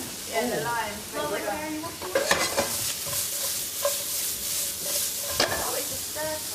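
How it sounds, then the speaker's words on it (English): A stir fry with lime sizzles and crackles in a pan, with intermittent stirring scrapes and clanks over a steady frying hiss, while voices murmur briefly nearby. "it's a stir fry"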